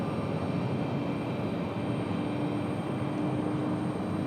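A CRJ regional jet on its takeoff roll at Raleigh-Durham International, a steady broadband engine roar with a low rumble, continuous and fairly distant, holding level throughout with no voices.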